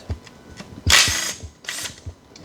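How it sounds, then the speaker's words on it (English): Bolts being worked loose from the engine of a 1986 Porsche 944 Turbo during restoration, two bursts of whirring tool noise over a quieter background of faint clicks and rattles. "I'm going to go around and get all these bolts out"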